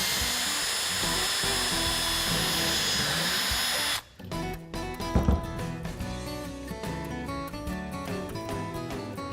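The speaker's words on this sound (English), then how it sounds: "you can actually drill out the holes into the new" A power drill whines steadily for about four seconds, drilling holes in a metal car door pillar channel, then cuts off, followed by irregular clanking and scraping of metal nearby.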